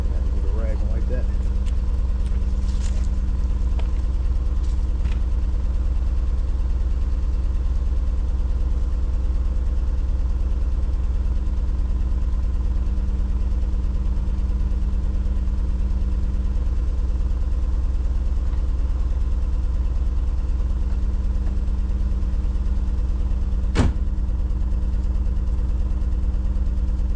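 A Nissan 300ZX engine idles steadily and close by after new spark plugs, a smooth, even low hum that runs throughout with a brief sharp click near the end.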